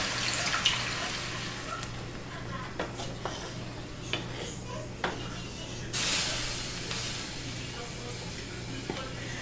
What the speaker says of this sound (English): Now I'm gonna add some veal broth.